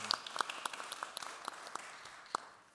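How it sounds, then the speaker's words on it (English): Sparse, faint handclaps from a small audience at a conference panel, a few scattered distinct claps spaced out over a couple of seconds rather than a full ovation. "if I can ask you a big round of applause for the panelists"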